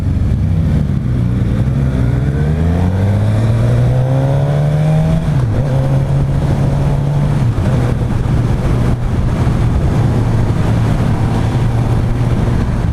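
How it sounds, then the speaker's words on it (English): A 2016 Suzuki GSX-S1000 motorcycle engine, recorded from the rider's position, climbs steadily through the revs, then settles into a steady drone with brief shifts, loud and close against wind noise throughout. "jumping on this bike and taking it through some slow parts already"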